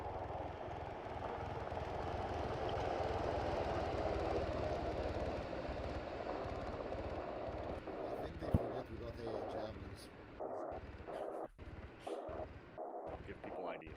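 Steady droning rumble of an aircraft engine in a military video game, continuous and moderately loud, fading and breaking up near the end, with people talking over it.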